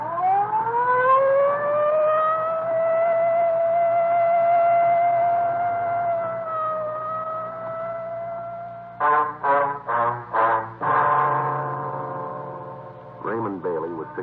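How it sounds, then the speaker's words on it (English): A police car siren in an old-time radio crime drama, a long wailing tone that rises and holds, then a series of short rapid yelping bursts, loud and close, with someone speaking briefly over it. "I'd better use the light and siren, Frank."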